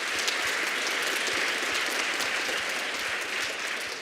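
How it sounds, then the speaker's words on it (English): Audience applause at an elementary school Grandparents and Special Friends Day: a dense, continuous crowd of hands clapping at a fairly loud, even level that tapers slightly at the end. "Let's go ahead and give them a round of applause."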